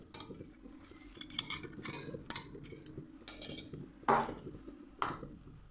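A spatula stirs and sautés finely ground green peas in a pan over medium heat, with soft scraping and a few sharp metallic clinks against the pan, close and fairly quiet with no talk.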